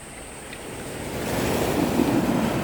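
Waves break on a pebble beach at Hwanggeumsan in Seosan, a close rushing wash that grows louder, mixed with wind noise on the microphone.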